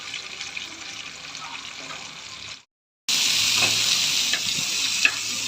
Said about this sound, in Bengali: রসুন কাঁচামরিচ ভেজে নিচ্ছি, এখন পেঁয়াজটা একটু ভেজে নেব।